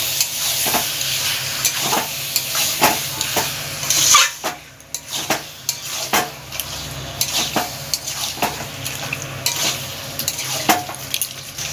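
Ginger stir-fried with chicken in a pan, with a running sizzle under repeated scraping and knocking strokes of a spoon against the metal, coming at an irregular, busy rhythm.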